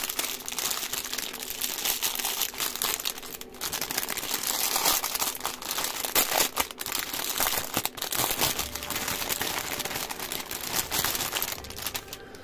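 Plastic packaging of a cross-stitch kit being opened, with continuous close crinkling and crackling of the wrapper, steady and fairly loud throughout, no talk.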